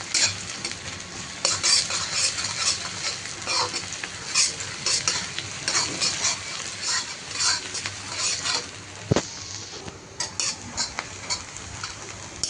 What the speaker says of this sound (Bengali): পেঁয়াজগুলো হালকা বাদামি কালার করে ভেজে নেব।